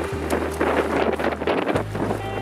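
Wind gusting across a Death Valley desert campsite, heard as continuous low rumbling buffeting against the microphone with fluttering noise, loud and close throughout.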